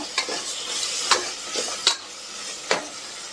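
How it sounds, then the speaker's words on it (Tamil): Cubed potatoes sauté in a hot pan for mint pulao, a steady oily sizzle broken by a few sharp scrapes and clicks of a spoon stirring, close and fairly quiet, with no talk. "நான் உருளைக்கிழங்கு மட்டும் கட் பண்ணி சேர்த்துருக்கேன். இதையும் லைட்டாக வதக்கிக்கலாம்."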